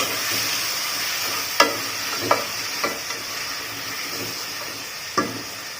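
Curry leaves and spices frying in a pan for Tamil chicken kulambu, heard as a constant close sizzle with a few sharp scrapes and taps from stirring.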